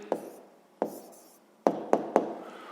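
An answer is written down in a maths exercise with a few sharp, close taps and scratches of a pen on paper, spaced irregularly.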